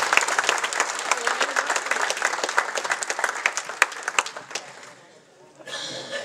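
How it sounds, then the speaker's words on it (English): A dinner audience at a keynote event gives a round of applause, a sustained burst of many hands clapping with sharp individual claps standing out, thinning and fading toward the end before a murmur of voices rises. "How about one more round of applause for that?"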